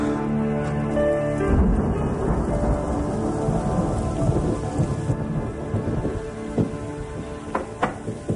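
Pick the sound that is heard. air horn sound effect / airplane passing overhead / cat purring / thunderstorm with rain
thunderstorm with rain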